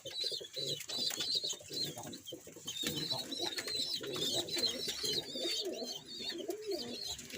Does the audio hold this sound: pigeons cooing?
yes